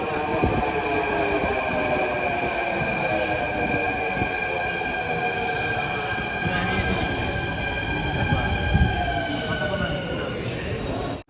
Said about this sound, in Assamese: আমাৰ ট্ৰেইন আহি গ'ল প্লেটফৰ্ম নম্বৰ 1ত।